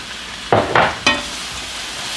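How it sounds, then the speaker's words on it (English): Vegan pulled pork being stirred with barbecue sauce in a pan, three quick close scraping strokes over a low sizzle, then settling back to a quiet hiss. "And stir that around in there."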